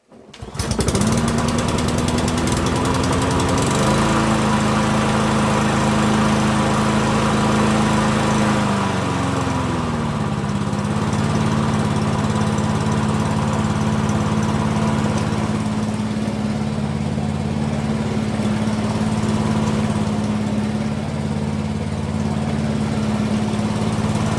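A Mountfield SP536 petrol lawn mower, serviced after more than nine years in storage, starts on the first pull with the choke on. Its small engine then runs loud and steady close by, with the pitch shifting slightly as it settles.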